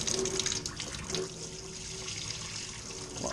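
Water rushes steadily from a newly installed Kohler Koi faucet being flushed, a continuous close splashing hiss into the sink, with no talking.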